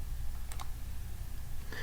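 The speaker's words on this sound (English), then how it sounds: "I'm going to go ahead and click continue" A couple of sharp computer mouse clicks stand out over a low room hum, with another faint click near the end, close and quiet, no talk.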